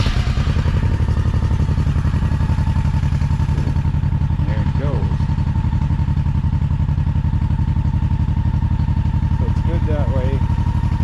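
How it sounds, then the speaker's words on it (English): A 2007 Honda Shadow Spirit VT1100C motorcycle engine idles steadily and close by, with a low pulsing throb that holds through the whole stretch, and a few brief voices break in over it. "Give it a start up here."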